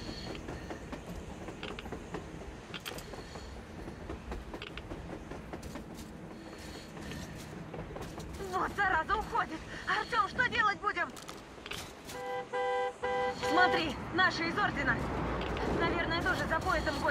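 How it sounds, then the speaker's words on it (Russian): Steam locomotive in the Metro Exodus video game, rolling with rhythmic rail clatter and mechanical clanking that grows busier toward the end, with a voice talking over it. "Это поезд? Это поезд? Паровоз!"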